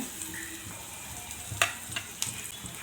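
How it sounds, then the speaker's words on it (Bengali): Chopped chili, cumin powder and turmeric stirred in mustard oil with onion in a kadai, a soft steady sizzle broken by a few sharp scrapes and clinks of the spoon against the pan. "লঙ্কা কুচি, পরিমাণ মতো মিঠা তেল, জিরের গুঁড়ো, হলদির গুঁড়ো দিয়ে নাড়িয়ে"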